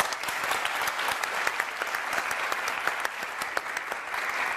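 Studio audience applause on a Turkish television word-game show, a dense, steady wash of many hands clapping at close range and fairly loud, with no talking over it.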